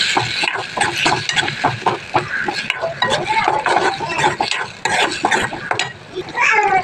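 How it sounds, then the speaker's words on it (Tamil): Tomato paste sautéed and stirred in a pan, with steady sizzling and repeated scraping and clinking of a spoon against the pan, loud and close throughout. "தக்காளி விழுது நல்லா பச்சை வாசனை போகிற வரை வதக்கணும்."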